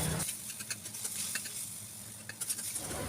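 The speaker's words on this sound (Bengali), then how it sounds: "এইবার সিদ্ধ করা টমেটো এবং আদাগুলো দিয়ে খুন্তি দিয়ে ভালো করে একটু ঘেঁটে নেব।" A spatula stirs boiled tomatoes and ginger in hot oil with dried chilli and asafoetida, making a faint, close sizzle broken by light scraping and patter, loudest near the end.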